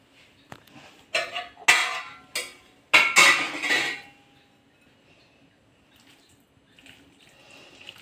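A spoon clatters and scrapes through a cooled lemon pickle mixture in a pot, several loud, close clinks and stirring sweeps in the first half, then near quiet with faint, sparse sounds.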